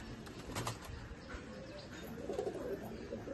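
Pigeon cooing in a home pigeon collection, low soft coos with a brief flutter of wings, fairly faint over background noise.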